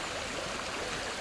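River water flows in a steady, even rush of broadband noise, close and continuous, with no voices over it.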